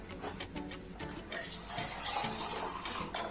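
Water poured into gram flour in a bowl to make a smooth batter, a steady splashing pour running throughout at close range with no talking.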